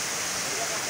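Kintampo waterfall in Ghana, heard as a loud, steady broadband roar of falling water with no breaks, close and continuous.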